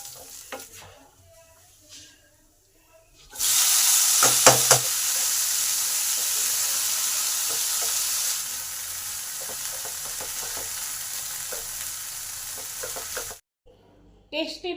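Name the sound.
cumin, dried chillies and ginger frying in oil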